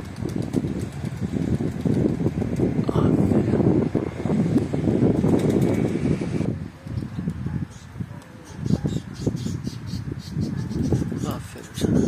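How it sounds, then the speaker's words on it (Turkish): Strong wind buffets the microphone outdoors where tumbler pigeons are being flown, a loud, continuous roaring gust that eases partway through, with a voice talking over it. "Rüzgar şiddetini arttırıyor."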